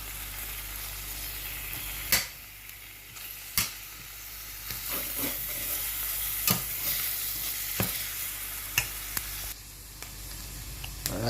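Eggs cook in a frying pan while being mixed, a constant close sizzle broken by sharp scrapes and clacks of a utensil against the pan at irregular intervals.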